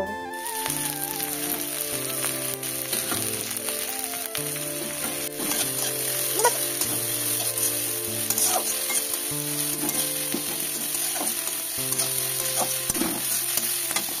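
Egg roll batter fries in mustard oil in a kadai, with a loud, continuous sizzle and crackle and occasional stirring scrapes, no talking.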